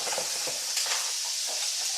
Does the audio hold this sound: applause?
no